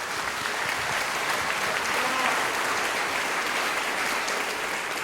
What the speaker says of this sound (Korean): 박정학 회장님을 큰 박수로 맞아주시기 바랍니다